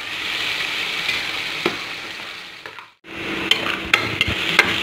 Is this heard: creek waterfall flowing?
no